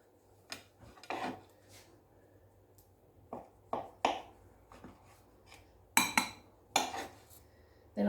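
A knife cuts through soft scone dough on a board, giving a series of short, close scraping and tapping strokes with gaps between them.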